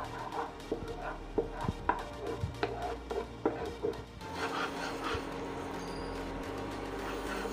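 A spoon scrapes and taps against a pan in an uneven rhythm as wheat flour is stirred in ghee, then gives way to a steady frying sizzle.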